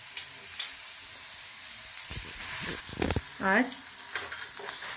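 Sliced onions and freshly added ginger paste fry and sizzle in a pan, with stirring scrapes and clinks over a steady hiss, close by; a voice speaks briefly.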